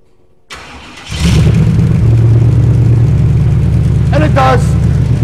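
A 1996 Buick Roadmaster with an LT1 V8, being fixed for a long-crank fault, cranks briefly and fires, catching into a loud, steady idle that runs close and continuous, with a short voice-like burst partway through.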